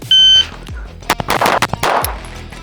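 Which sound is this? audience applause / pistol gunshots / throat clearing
pistol gunshots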